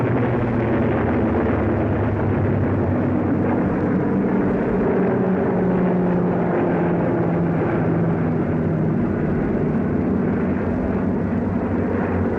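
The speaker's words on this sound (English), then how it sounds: "American transport planes loaded with supplies follow us as we advance." American military transport planes of 1943, loaded with supplies, fly overhead in North Africa, a steady droning engine roar that holds for the whole stretch, broad and continuous with slowly shifting tones.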